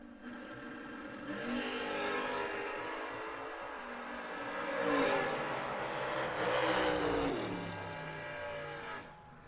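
Drag race cars launch down the strip, among them Kevin Pruitt's Kick Booty Motorsports Chevy II wagon, giving a loud, sustained engine roar that rises to a peak midway and holds before tailing off.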